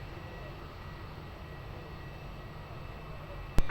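An airliner rolls for takeoff at Lisbon Airport, heard as a steady, moderately distant engine rumble and whine. A short sharp knock comes near the end.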